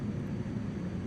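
A Zlin Savage Cub light propeller airplane in Microsoft Flight Simulator drones with a steady, low engine rumble, continuous and even, with no talk over it.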